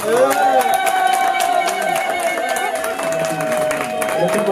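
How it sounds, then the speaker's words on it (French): Wedding guests at a ring ceremony clap in a lively burst of applause, mixed with chatter and cheers, while music plays underneath. "On applaudit, s'il vous plaît."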